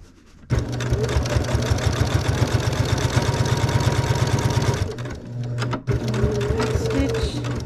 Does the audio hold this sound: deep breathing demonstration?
no